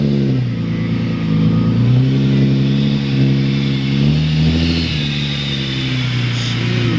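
A supercharged Infiniti G35 coupe engine revs loud and close, its tone rising and falling through several pulls without a break.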